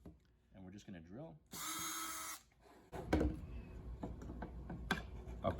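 A power drill bores a pilot hole through a wooden beehouse roof in one loud, steady whine lasting under a second, close by. Talk comes before it, and handling noises and clatter follow.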